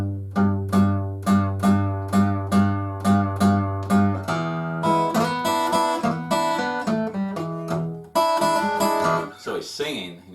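Acoustic blues guitar lick in Lightning Hopkins style, a repeated low bass-string figure plucked in steady rhythm, then fuller strummed notes and a brief run near the end, played solo and close.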